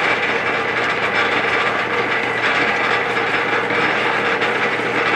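An iron worker machine with a press punch and shear starting up and running, a loud, steady mechanical clatter and whir that holds constant throughout, close by, with no talking.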